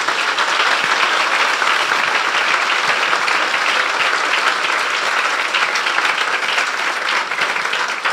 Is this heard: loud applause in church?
yes